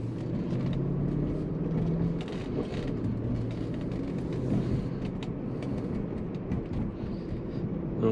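A 2005 BMW 545i with a six-speed manual drives along, its steady engine drone and road rumble heard from inside the cabin, continuous and moderately loud with no talking.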